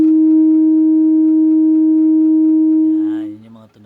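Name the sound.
315 Hz sine test tone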